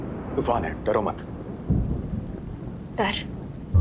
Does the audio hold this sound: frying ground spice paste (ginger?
no